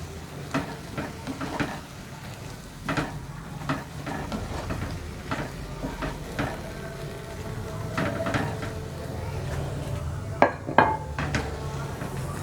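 Vegetables including chinese cabbage being stirred in a pan while cooking capcay without oil or salt, with repeated soft scraping clinks and light clatter of a utensil against the pan at an irregular rhythm, close and moderate in volume.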